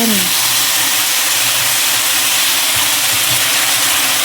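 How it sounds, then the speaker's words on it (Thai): Pork stir-fries in a hot pan for Thai pad krapow, a steady loud sizzle and hiss that runs throughout, with faint clinks of the spatula underneath. "เอาหมูลงมาผัดก่อนเลย"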